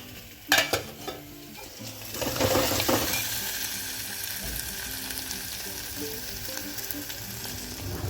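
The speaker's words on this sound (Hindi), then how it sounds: "इधर मैं बना रही हूँ खाना, मैं बना रही हूँ छोले।" A few clanks of a utensil on a pan, then a loud steady sizzle of chickpea curry frying, with occasional stirring scrapes.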